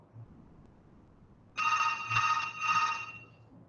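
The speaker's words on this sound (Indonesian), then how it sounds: "Sebentar, ada telepon." A telephone rings with a bright electronic trill in two bursts after a quiet stretch, clear and fairly close in an otherwise silent room.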